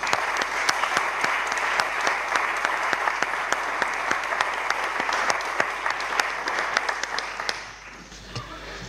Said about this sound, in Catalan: prego que el dediquem un aplaudiment al Joaquim Ureña